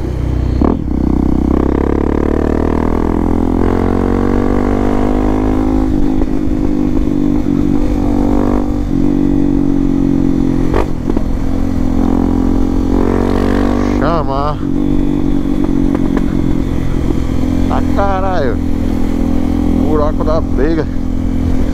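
A Honda XRE 300 motorcycle fitted with a Dore exhaust rides at night with a passenger, its engine droning loudly and steadily with rising and falling revs and occasional sharp pops, while a rider talks over the noise.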